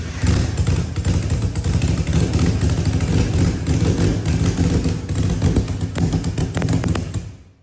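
A Honda K24 engine, converted to rear-wheel drive, running through a makeshift exhaust with an old muffler, gives a loud, close, steady rumbling drone with a throbbing low pulse and rattly clatter for about seven seconds before cutting off, with no voices.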